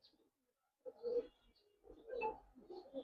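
Giribaj pigeon cooing close by, two soft throaty coo phrases separated by a short pause, quiet and alone.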